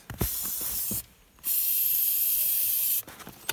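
Aerosol brake cleaner or injector cleaner sprays in two long, loud hissing bursts close by, the first about a second and the second nearly two, separated by a short pause with faint clicks at either end.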